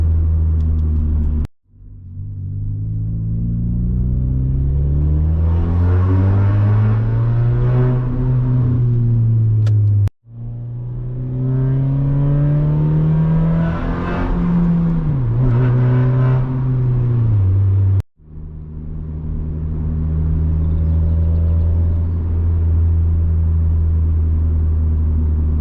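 A loud Hyundai Tiburon coupe revs inside a tunnel, its engine note rising and falling through three long pulls separated by brief gear-change dips, with heavy echoing rumble throughout.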